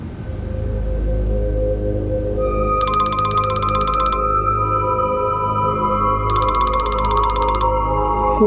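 A mobile phone rings in two bursts of rapid electronic trilling separated by a pause, loud and close over a low steady background hum.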